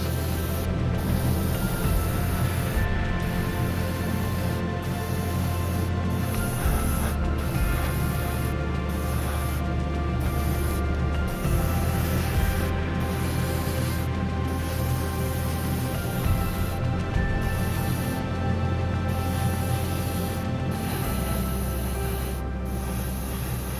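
Paint sprayed through a 0.2 mm nozzle onto scale model parts of a Ferrari SF90 Stradale, a steady continuous hiss broken by brief pauses, with a constant low compressor hum beneath.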